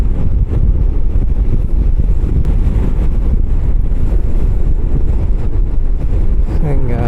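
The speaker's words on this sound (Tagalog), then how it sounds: "Lakas ng hangin sobra." Strong wind at the Dupinga River in Gabaldon, Nueva Ecija, buffets the microphone in a loud, continuous low roar that rumbles steadily throughout with no letup.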